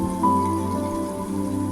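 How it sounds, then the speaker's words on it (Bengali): Garlic and ginger paste frying in a pan for a Bengali kochu shak dish, giving a steady soft sizzle with crackling droplets and a low background hum, no talk. "তারপর রসুন আর আদাটাকে হালকা একটু ভেজে নিচ্ছি"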